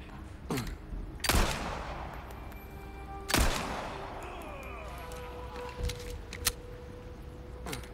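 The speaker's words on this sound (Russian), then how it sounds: "Это кто сейчас выстрелил?" Gunfire in the Resident Evil 4 Remake video game: a few sharp, echoing shots spaced seconds apart, followed by lighter pops and clatter over a low rumbling background, with no voices.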